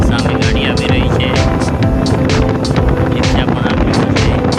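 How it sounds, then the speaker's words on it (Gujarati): Wind-buffeted rumble of a motorbike riding along a road, a loud steady engine and wind roar heard up close from the rider's seat, with no clear voices. "જોઈ શકો છો અમારું બાઇક ચાલી રહી છે"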